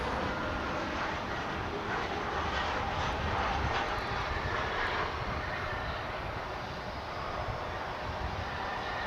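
An Embraer 175 jet engine roars steadily at a distance at Dallas/Fort Worth Airport, a broad, even rumble and hiss holding for the whole span.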